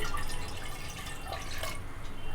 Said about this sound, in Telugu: 1/2 గ్లాస్ వాటర్ వేసుకోవాలి.